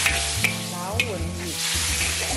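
Pork ribs dropped into a hot frying pan hiss into a loud, steady sizzle with scraping stirring noises, sustained for a couple of seconds without speech.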